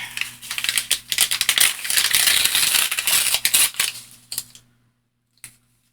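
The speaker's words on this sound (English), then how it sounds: "Don't you just love the sound of paper?" Close crinkling and crumpling of paper being torn for a journal, a busy burst of crisp rustles and snaps that fades out, followed by one short crackle after a pause.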